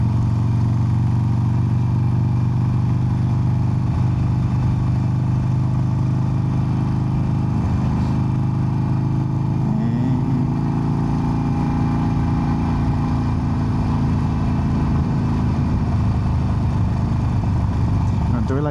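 A motorcycle cruises steadily through neighborhood streets, its engine droning loud and close throughout, with wind rush and a slight change in pitch midway.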